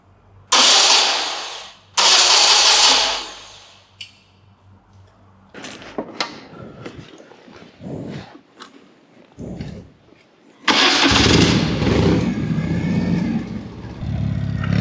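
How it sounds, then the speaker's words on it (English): A BMW R90/6 airhead motorcycle's starter motor cranks the engine in several loud, whirring bursts, separated by pauses filled with clicks and small mechanical noises, then a long final cranking run. "make sure the starter can turn the engine over"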